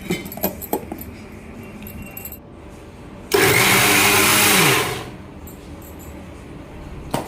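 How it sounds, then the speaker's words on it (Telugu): A kitchen mixer grinder blends soaked sago pearls into a paste: one loud, close whirring burst of about a second and a half, set between quieter clinks and handling noise. "దీన్ని కొద్ది కొద్దిగా మనం మిక్సీ వేసుకుందాం."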